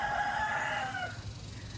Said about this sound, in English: I don't find any rooster crowing cute